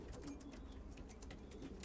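Flight pigeons kept by a fancier coo softly and repeatedly, faint and somewhat distant, with a low rumbling background.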